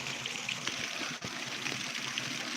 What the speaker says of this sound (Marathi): हे बघा पाणी चालू इथे